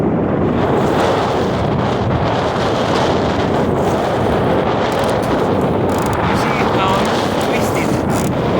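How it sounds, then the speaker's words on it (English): Strong wind buffets an anchored boat held on a rubber snubber, with waves rolling and sloshing against the hull in a steady, loud, broadband roar and gusts hitting the microphone throughout. "Now the wave is coming, more waves are coming"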